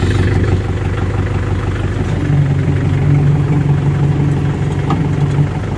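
A vehicle engine idles and runs steadily inside the Free Fire Max video game, a continuous low rumble with a droning hum, loud and constant throughout with no talk.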